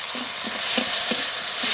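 Chopped onion and tomato with salt frying in hot oil for an egg curry, a loud steady sizzle filling the clip with a few soft stirring scrapes, no voices.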